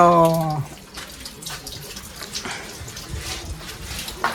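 Cold water flows steadily at a pond on Champeswar hill in Baleswar, Odisha, a continuous close splashing trickle; a voice is heard briefly at the start.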